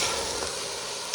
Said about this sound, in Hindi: अब मैं इसको ऑयल में अच्छी तरीके से भून लूँगी।